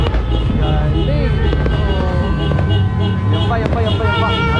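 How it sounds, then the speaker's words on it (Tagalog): New Year fireworks bursting in repeated booms and crackles, loud and close, under excited chatter and cheering from a family watching. "Fireworks tawag dyan, fireworks."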